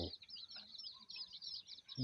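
Eight-day-old jungle fowl hybrid chicks cheep in a continuous flurry of high, thin peeps, several birds overlapping close to the microphone.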